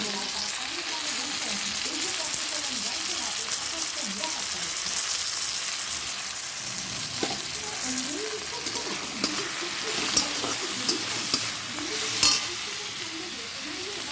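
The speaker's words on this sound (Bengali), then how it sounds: "লঙ্কার গুঁড়ো দিয়ে দিচ্ছি একটু হলুদ দিয়ে দিচ্ছি" Chilli powder and turmeric fry in a hot pan with a constant, loud, dense sizzle and the scrape of stirring, steady throughout with a few small clinks near the end.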